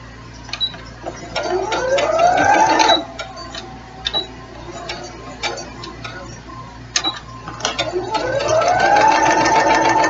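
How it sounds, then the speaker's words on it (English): A sewing machine stitches a quarter-inch seam on a jelly roll quilt, running in quick rhythmic bursts that speed up and slow down, close and loud with short pauses between runs. "put this up to the foot and start sewing my 1/4 inch seam"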